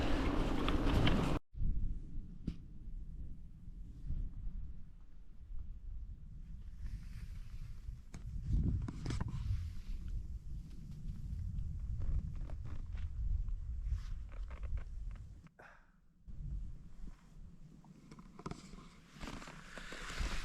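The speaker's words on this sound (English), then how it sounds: "gravel bike goes on gravel." A gravel bike's tires crunch steadily over loose gravel with wind buffeting the microphone, a continuous rough rolling texture with a brief dropout partway through.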